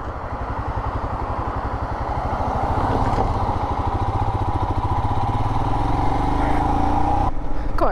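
A Royal Enfield motorcycle being ridden, its single-cylinder engine thumping in a steady, rapid pulse that grows slightly louder, loud and close throughout, with faint talk now and then.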